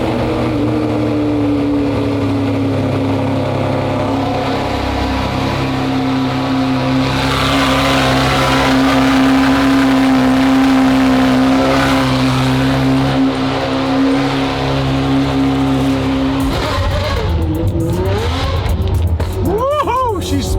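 A 599 cold-starting, settling into a loud, steady, high idle with strong droning tones, then shifting near the end into throaty, uneven revs and burbles.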